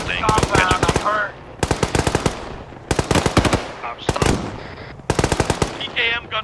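PKM machine gun in Arma 3 rattling off several sustained automatic bursts separated by brief pauses, loud and close, with faint voices in the background.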